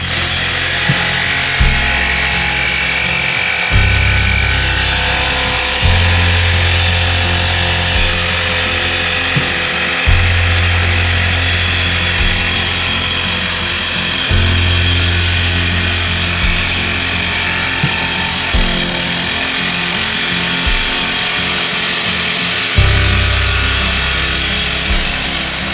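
A jigsaw cuts wood in loud, close bursts: a steady harsh buzzing rasp that rises and falls in pitch as the blade bites, with short breaks between cuts and no talking.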